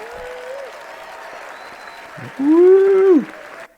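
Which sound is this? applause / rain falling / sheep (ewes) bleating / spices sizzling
applause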